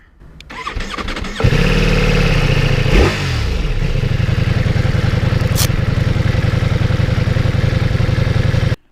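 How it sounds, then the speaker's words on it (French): A 2021 Ducati Multistrada V4S Sport V4 motorcycle engine cranks briefly, then catches and settles into a loud, steady, throbbing idle, close up with no voices. "on n'est pas obligé d'attendre la fin de l'animation Ducati, on peut démarrer tout de suite."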